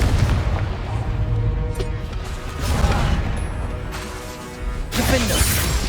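Booming blasts and crashes from Confringo explosion spells go off during a Hogwarts Legacy duel. The heavy impacts come in rough succession over dense, continuous game noise.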